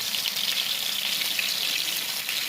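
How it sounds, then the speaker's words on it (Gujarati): Tomatoes fry in oil for a garlic chutney, giving a dense, even sizzle close by with faint stirring movements beneath the constant hiss. "ટામેટાને સારા મિક્સ કરી આઘા પાછા તેલમાં કરી"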